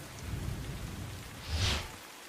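Heavy monsoon rain in Navsari pours steadily at moderate distance, and a soft rumble swells briefly near the end of the clip.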